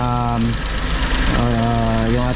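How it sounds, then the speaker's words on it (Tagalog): A Mazda Scrum's 660cc T6E turbo engine runs at a steady idle with a low, even hum close by, while someone talks over it for part of the time. "Ito yung makina natin na T6E engine, 660cc, 63 horsepower, 4-speed automatic transmission."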